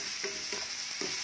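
Onion and tomato sautéing in a pan with turmeric for a home-style eggplant bhaji: a constant, bright sizzle runs throughout, with three soft scraping stir strokes at a regular pace.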